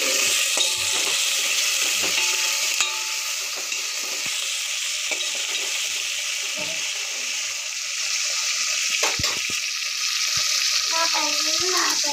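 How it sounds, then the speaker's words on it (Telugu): Cumin, mustard seeds, dried red chillies and curry leaves sizzle in hot oil, a continuous close frying hiss with scattered small pops and clicks of stirring, and a brief faint voice near the end. "జీలకర్ర ఆవాలు, అలాగే కరివేపాకు వేసేసిన."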